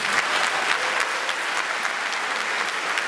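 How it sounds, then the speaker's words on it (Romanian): A theatre audience applauding, dense continuous clapping from a large crowd, steady and fairly close for the whole stretch. "Ia hai niște aplauze cine a reușit să plătească pentru bilete."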